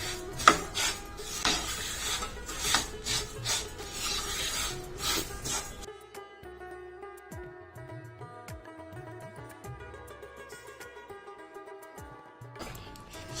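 Plain sesame seeds dry-roasting in a pan over a low gas flame, stirred with scraping and light metallic clinks, busier at first, then a quieter stretch with soft rustling; tilgul for Makar Sankranti.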